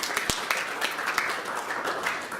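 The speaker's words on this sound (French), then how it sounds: "Vogliamo fare un applauso al Signore." A church congregation claps together during a worship service, a steady crowded patter of hands with a few sharper individual claps, fairly faint and distant.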